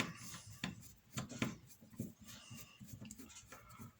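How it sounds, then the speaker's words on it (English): A screwdriver works the Phillips screws on the underside of a Sig M17 air gun, giving a series of short, quiet scraping and rubbing clicks at an uneven rhythm, close up with no voices. "So to remove those you need a screwdriver. Undo the screws."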